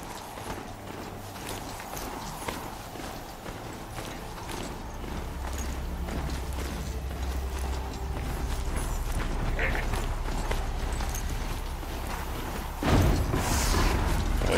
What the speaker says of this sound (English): In this game, to make the horse go faster, you have to tap X.